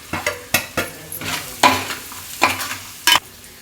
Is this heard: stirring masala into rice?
yes